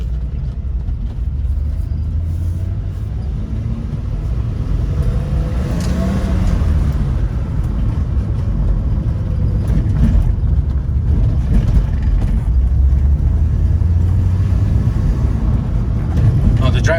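A BMW E30 325e drives along with a steady low engine rumble and road noise at a constant pace, loud throughout, while someone talks from inside the car.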